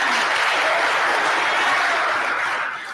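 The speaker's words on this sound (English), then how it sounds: "Please, let's give them a round of applause." A crowd at a citizens' assembly claps together in a brief, loud, even roar of applause that fades off in the final moment.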